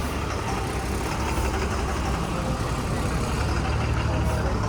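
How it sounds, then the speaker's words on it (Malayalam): A bus bound for Mookambika pulls in with a loud, constant engine drone and heavy road rumble that fills the scene, no pauses, with a busy bus-stand hubbub underneath. "ഞങ്ങളെ മൂകാംബിക ബസ് വന്നല്ലോ"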